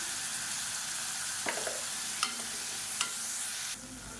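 Tomatoes with turmeric sautéing in a pan for rasam give a steady soft sizzle, with a few sharp clicks of a spoon stirring against the vessel partway through.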